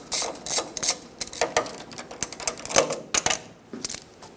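A ratchet with a 12mm socket works a starter wire nut on a 1995-2004 Toyota Tacoma I4, giving rapid close metallic clicks in uneven bursts with short pauses.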